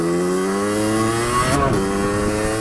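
A Rieju RRX motorcycle engine revs steadily at close range, its harmonic drone holding pitch before a brief surge in revs near the middle, with no talking.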